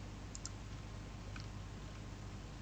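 A few faint, sharp computer mouse clicks while formatting text in Microsoft Word, a quick double click early and another pair later, isolated over quiet room noise.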